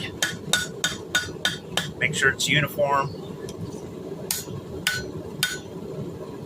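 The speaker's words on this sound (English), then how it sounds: "it's just kind of light hammer blows, nothing really heavy" Light hammer blows dress hot metal for a bottle opener on an anvil, a rhythmic series of sharp ringing strikes, close and fairly loud, with a short pause midway; someone speaks briefly between blows.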